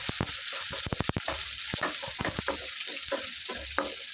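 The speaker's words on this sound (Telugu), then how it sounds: "ఉల్లిపాయ కూడా చాలా వేగిపోయిందండి" Chopped onions frying in hot oil for a catering-style ivy gourd fry, a loud continuous close sizzle with a quick burst of rhythmic spatula scrapes and taps early on, then irregular stirring knocks.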